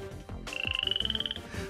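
Cartoon frog croaks in a rapid pulsing burst of about a dozen throaty beats with a rising whistle-like tone, loud and close, following a couple of short whooshing effects.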